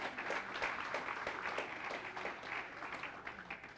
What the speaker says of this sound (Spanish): Un aplauso para ellos, ¿verdad?